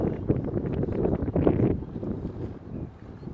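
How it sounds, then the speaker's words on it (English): Gusting wind buffets the microphone at an outdoor slope-soaring site for a radio-controlled ASW 28 glider model, a steady rumbling roar that swells around the middle and eases slightly afterward, with no talk. "The wind just picked up."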